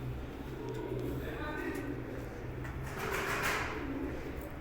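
Domestic pigeons coo in soft, low, repeated bursts close by, with faint wing flutters mixed into a steady background hum and murmuring talk.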